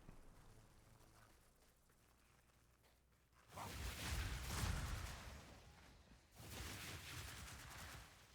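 The Ember Fusillade skill in a video game sets off bursts of small crackling pops, quiet at first and then two louder rattling flurries of rapid micro-pops that swell and fade.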